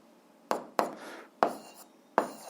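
Chalk or pen strikes on a board while a physics solution is written out, four sharp tapping strokes spaced irregularly, each followed by a brief scratchy trail, close and alone without talk.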